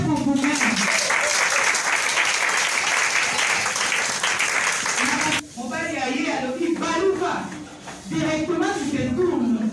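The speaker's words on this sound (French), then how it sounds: "Applaudissez pour vous-même." Applause from a crowd at a women's month closing event of a political party, loud continuous clapping for about five seconds that gives way to a voice speaking over thinner clapping.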